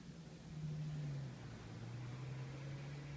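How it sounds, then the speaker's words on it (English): A car passing by outside on a street, heard from inside a garage with a fan running: a steady low engine drone and road rumble that swells slightly and holds over about three seconds, fairly faint and distant. "I hear a car driving by outside."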